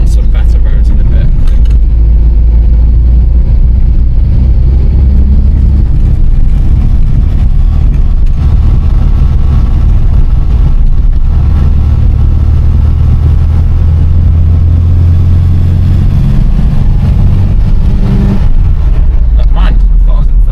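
A classic car driven on a bumpy, poor road, its engine a loud, steady low drone with rumbling from the rough surface, while people talk inside the cabin.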